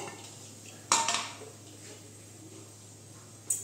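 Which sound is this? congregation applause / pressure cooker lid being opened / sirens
pressure cooker lid being opened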